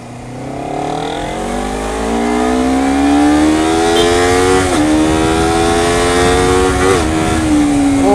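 A Honda CBR250RR motorcycle accelerating hard in second gear, its engine note climbing steadily in pitch, loud and close, with brief dips between rises and no talk.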